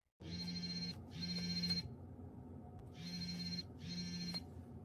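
A telephone rings in four bursts with short gaps between them, an electronic ring that is clear and fairly close over a low background hum.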